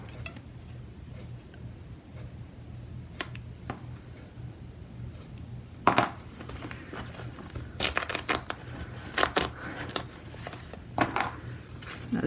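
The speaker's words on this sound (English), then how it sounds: "so now we're going to remove the design from the hoop" Scissors snip through the placement stitching and tape peels away as an embroidered design comes out of a machine embroidery hoop: faint, scattered clicks and snips over a low hum, with a few sharper handling knocks later.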